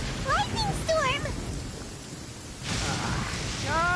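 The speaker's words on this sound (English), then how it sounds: "Uh-oh! Lightning storm!" Video game thunderstorm with steady rain hiss throughout and a swelling rumble of thunder near the end, heard under chirpy game voices and effects.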